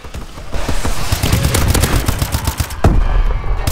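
Gunfire in the Call of Duty: Advanced Warfare multiplayer map Sideshow, with dense, loud bursts of rapid shots and sharp cracks running almost continuously, one especially strong report near the end.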